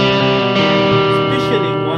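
An electric guitar plays an edge-of-breakup tone through a Simplifier DLX amp simulator, a loud sustained chord with slight grit that rings close and steady for the whole stretch.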